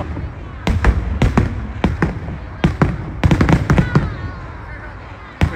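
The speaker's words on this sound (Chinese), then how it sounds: "为啥处放烟花？ 我也不知道为什么处放烟花。" Fireworks go off in a string of sharp, loud bangs and crackles at irregular intervals, some in quick clusters, echoing outdoors at night.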